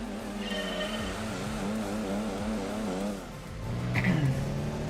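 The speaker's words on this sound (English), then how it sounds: "this engine's got lots of torque, so you can really, you know, get that low RPM acceleration. And you hear it as well" A car engine in Gran Turismo 2 accelerates through repeated rising revs with gear changes, loud and steady, followed by a lower engine note and a faint squeal near the end.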